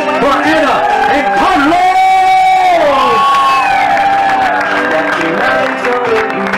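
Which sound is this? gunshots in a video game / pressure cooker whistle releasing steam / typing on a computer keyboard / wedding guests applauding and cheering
wedding guests applauding and cheering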